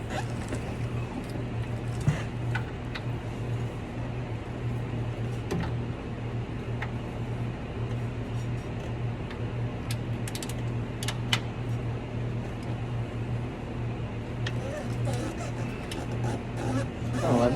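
Ratchet and wrench work on the main bearing bolts of a CAT 3406B diesel engine, a steady run of clicking, creaking metal mechanism sounds close by over a low constant hum, with sharper knocks now and then.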